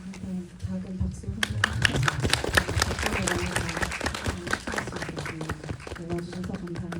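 An audience at a Seoul independent film festival screening gives a short round of applause for guests on stage. Brisk, scattered clapping swells and holds for several seconds under a background hum and some murmured voices.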